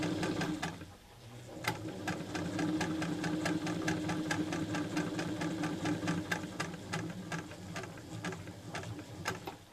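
A vintage Singer 66 sewing machine stitches steadily at a slightly slower pace, its needle producing an even train of sharp, rapid clicks over a smooth mechanical hum, close and clear with no talking.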